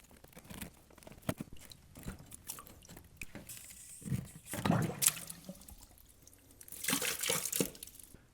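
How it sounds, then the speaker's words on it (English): Water trickling and dripping from a loosened sump pump check valve while draining, soft irregular splashes and gurgles, fairly quiet with a few louder wet bursts. "we're just going to loosen this and let it kind of slowly trickle down and drain"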